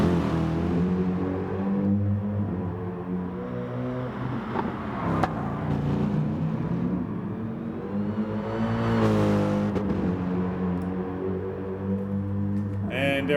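A race car engine in Gran Turismo Sport drones loudly through corners and onto a straight, pitch rising and falling with gear changes and lifting, with no voices over it.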